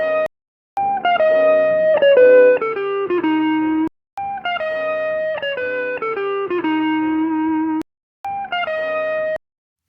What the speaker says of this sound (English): Let's real quickly make something with the guitar. Again, it's boxy sounding.